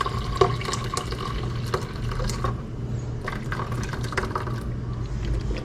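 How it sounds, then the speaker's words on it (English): Juice from cooked possum meat pours into a bowl, a steady wet trickle and splash running continuously at close range with small clinks. "pour all that juice down in that bowl"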